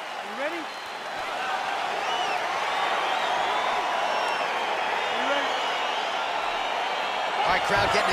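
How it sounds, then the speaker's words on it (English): Arena crowd at a UFC fight cheering and roaring steadily as the bout gets underway, a dense continuous wash of voices with scattered whoops, with a commentator talking over it. "Crowd getting excited as this fight gets underway"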